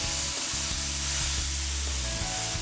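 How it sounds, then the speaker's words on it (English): Ground beef sizzles loudly in a sauté pan over medium-high heat, a dense, steady hiss that fills the whole stretch, with faint low thumps from the pan underneath. "I'm gonna be adding the ground beef to a saute pan over medium-high heat"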